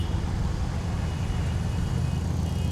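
Steady, close engine drone of a scooter runs continuously with no pauses, a constant low rumble throughout.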